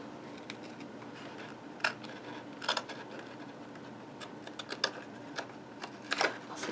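Small snips cut through a gift bag at its attached bottom edge, giving a few sparse, crisp snipping clicks spread apart over a quiet room background.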